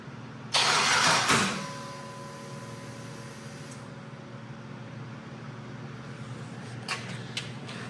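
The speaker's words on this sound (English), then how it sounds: "But let's fire this thing up," A 5.3L V8 fitted with an NSRx Stage 3 cam cranks briefly and catches with a loud burst, then settles into a low, steady idle with small blips near the end; no one speaks.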